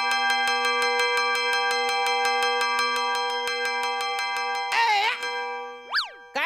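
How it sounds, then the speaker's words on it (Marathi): A small hand bell rings rapidly and evenly on stage in a Marathi comedy sketch, with a bright, sustained tone that lasts about five seconds. It is followed by a brief voice and a quick sliding sound effect. "काय घंटी वाजाडतो रे?"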